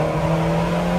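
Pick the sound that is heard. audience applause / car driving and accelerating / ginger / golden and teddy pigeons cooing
car driving and accelerating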